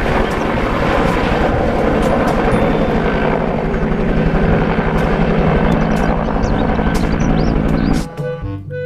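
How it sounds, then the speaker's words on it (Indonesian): A steady buzzing whir like a small toy helicopter's rotor runs loudly and continuously for several seconds, then cuts off abruptly near the end. "Di sini ada helikopter."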